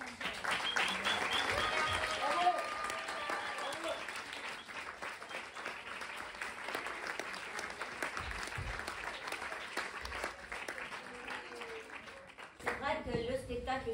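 A theatre audience applauds performers on stage at a season-closing show, a long, lively ovation of many hands under a speaking voice, easing slightly before a fresh surge of clapping near the end.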